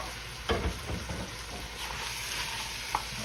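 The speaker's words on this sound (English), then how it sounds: "We're going to brown the ground meat off." Ground meat and Italian sausage browning in a pot, giving a steady low sizzle with a few stirring knocks and scrapes near the start and a brief clink near the end.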